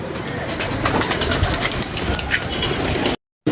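Pigeons coo amid a dense, constant wash of noise, their calls partly buried, until the sound cuts out abruptly near the end.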